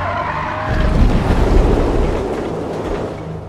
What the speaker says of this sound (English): Let's see what happens if I accidentally crash.